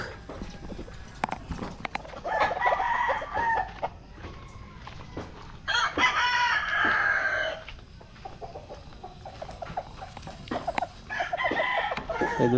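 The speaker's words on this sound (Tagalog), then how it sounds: "Daming manok dito guys." Chickens cluck and roosters crow repeatedly on a farm, several loud nearby crows rising and falling between softer clucks, with scattered taps and clatter in the background.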